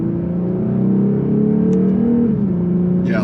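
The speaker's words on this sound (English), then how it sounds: "I do like the way that the naturally aspirated V6 sounds" The naturally aspirated V6 of a 2022 Lexus RC 350 F Sport drones steadily from inside the cabin, its pitch climbing as it revs and then dropping with a gear change.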